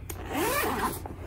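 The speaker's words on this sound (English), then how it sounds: "And then all the way unzipped." A zipper slides open along an Arteza pencil case in one smooth, close pass, its rising, whirring rasp lasting about a second after a small click, with no voices.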